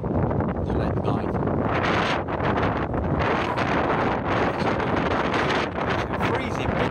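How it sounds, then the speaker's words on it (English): Strong wind roars and buffets the microphone in a Cornish blizzard, a loud, constant gusting rumble with brief dips, close and harsh for the whole stretch. "Wind's horrendous."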